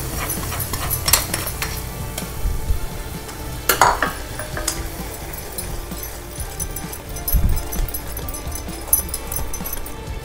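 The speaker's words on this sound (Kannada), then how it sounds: "ಈಗ ಒಗ್ಗರಣೆ ಹಾಕಿಟ್ಕೊಂಡಿರುವಂತಹ ದ್ರಾಕ್ಷಿ ಗೋಡಂಬಿ ಕೊಬ್ಬರಿ ತುಪ್ಪದ ಮಿಶ್ರಣನ ಈ ಬೆಲ್ಲ ಮತ್ತು ಕಡಲೆಬೇಳೆ ಇದಕ್ಕೆ ಮಿಶ್ರಣಕ್ಕೆ ಹಾಕ್ತಾಯಿದ್ದೀನಿ" A spoon stirs ghee-fried grapes, cashews and coconut into a pan of jaggery and chana dal, giving a soft steady scraping and sizzle with a few sharper clinks against the pan.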